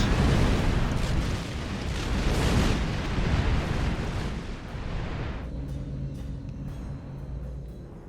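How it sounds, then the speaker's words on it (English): Rumbling explosions and booming blasts from the video game Star Trek Online roll on for several seconds, then fade into a low engine-like drone. "I like the explosions."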